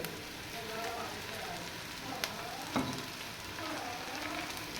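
Tomatoes and green chillies fry with onions in a pan for a dhaba-style karela pyaz dish, making a steady soft sizzle with a couple of sharp pops and clinks of stirring.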